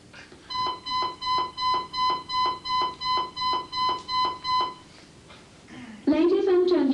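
A building fire alarm under test gives a regular series of loud electronic beeps at about one per second for several seconds, then stops, followed by a recorded announcement voice.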